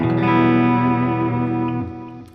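A sustained, distorted electric guitar chord rings out with bright, biting overtones and echo, then is cut off near the end.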